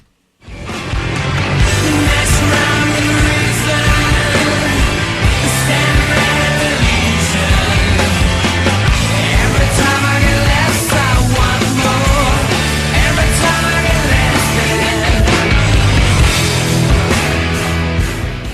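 Track 1 from a 1997 album plays loud and dense from start to finish, full-band rock with steady drums and a sustained wash of guitars, no talking over it.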